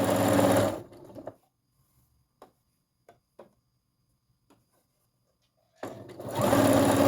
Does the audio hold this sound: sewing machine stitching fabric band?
yes